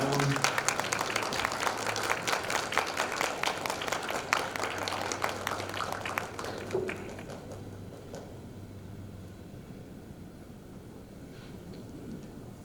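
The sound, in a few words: audience applause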